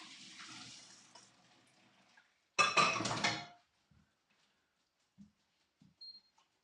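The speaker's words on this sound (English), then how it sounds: "we'll just drain off this pasta" Pasta water pours from a pot into a colander in a home kitchen, a loud rushing splash for about a second, followed by a few soft clinks and taps of cookware in quiet.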